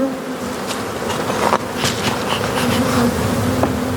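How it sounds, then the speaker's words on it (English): A crowded honey bee hive, a queenless cell builder packed with bees, gives off a steady, close buzzing drone with occasional louder passes as individual bees fly near. "as you can see, this thing is just jammed full of bees"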